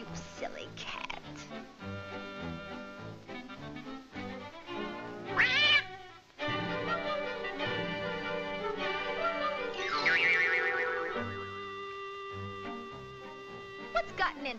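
Cartoon cat Butch meowing amid a busy orchestral score in a late-1990s cartoon, its cries rising and sliding over lively music, with character voices talking around it.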